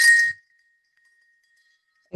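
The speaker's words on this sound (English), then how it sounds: "we are ready to hear the bell on the goat" A single clear metallic ding from a goat bell, struck once and then ringing out as a long, thin, fading tone in near silence.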